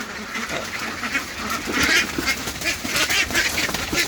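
Laying ducks quack loudly and continuously as they are caught for weighing, a dense, overlapping flock chorus close by with no talking.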